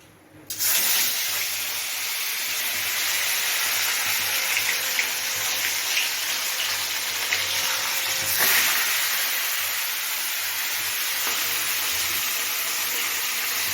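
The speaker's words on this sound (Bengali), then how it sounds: "তেলটা গরম হয়ে গেছে কারণ মাছগুলো দিয়ে দিই" Fish sizzling in hot oil in a home kitchen pan, a steady loud hiss that starts abruptly as the fish goes in and continues throughout, swelling slightly once midway.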